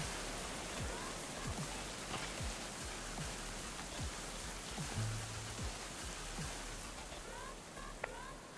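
Rain in the medieval colony-building game Going Medieval: a soft, continuous hiss of falling rain with faint scattered drip-like ticks, quiet and even throughout.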